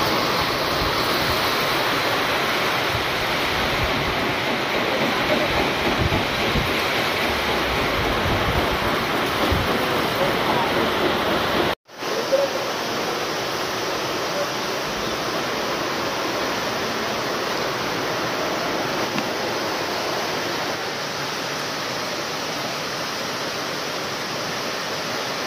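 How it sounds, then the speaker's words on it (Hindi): Steady rain falling outdoors in Sinnar, a continuous broadband wash like surf that stays loud throughout, with a brief dropout midway and no voices. "फुल सीन हो चुका है बारिश का"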